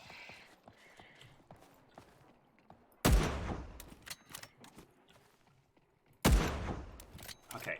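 Two loud, booming rifle shots in a video game, spaced a few seconds apart, each with a long decaying tail, over quieter scattered clicks and small noises.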